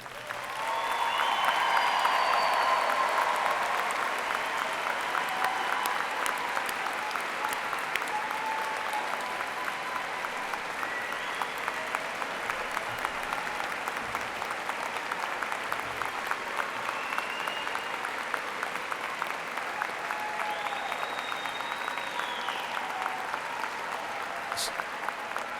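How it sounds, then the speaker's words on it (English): Sustained, dense applause from a large graduation ceremony audience at Eastern Kentucky University's spring 2013 commencement, loud at first and steady throughout, with faint cheers and whoops scattered over it. "let us recognize with a hearty round of applause Eastern Kentucky University's newest"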